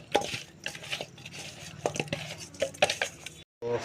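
Fish pieces being mixed by hand with salt and turmeric in a bowl, soft wet squishes with light clinks of a dish at an irregular rhythm, close and quiet, with no voice.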